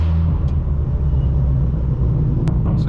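A straight-piped BMW M4 F82 driving through Hollywood streets, its exhaust a steady, loud low rumble held close throughout, with brief higher-pitched spikes near the end.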